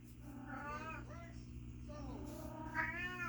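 An indoor cat meows repeatedly in drawn-out, complaining yowls in a garage workshop, several rising and falling cries over a steady low hum, fairly close and distinct.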